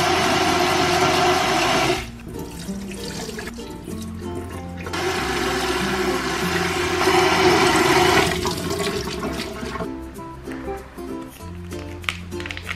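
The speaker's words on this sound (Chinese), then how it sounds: "我打算用那个凉水给它洗一洗再吃。" Cold tap water runs over rice noodles in a sink with a loud, rushing hiss. It cuts off briefly, returns for several seconds, then tapers into quieter trickling and dripping, with no talking.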